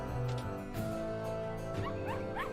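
A small dog yaps and whimpers in RuneScape, several short high yips over steady game music, no talk.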